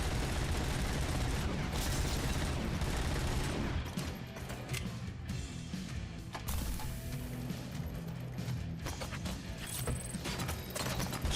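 Rapid automatic gunfire from a Robocop: Rogue City shootout, dense and loud throughout, with mechanical clatter and bursts mixed in and no speech.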